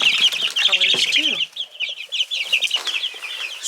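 Garden chickens cluck and chatter close by in a busy, overlapping flurry of short calls, with a few rising squawks and some faint rustling.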